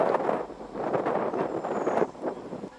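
Strong wind roars steadily on the climb up La Soufrière through tropical forest, a dense rushing buffet with gusts that rise and fall and no voices.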